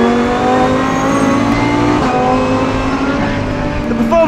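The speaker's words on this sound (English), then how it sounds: "Fantastic from that V10. It's obviously completely unsilenced." Unsilenced V10 of a Lamborghini Huracan GT3 racing flat out on a track, a loud, sustained howl at high revs with a brief shift near the end.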